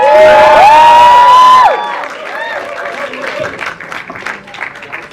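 Press conference audience cheers and whoops for a guest's introduction, a loud drawn-out whoop and shouting, then fading clapping and scattered cheers.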